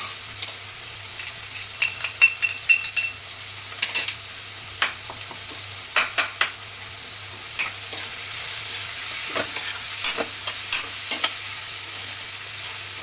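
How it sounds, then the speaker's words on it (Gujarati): Garlic chutney masala frying over low heat in a pan for a Kathiyawadi meal, a soft steady sizzle punctuated by sharp spatula clinks and scrapes against the metal at irregular intervals, with a low hum underneath. "હવે આપણે આમાં લસણવાળી ચટણી નાખશું"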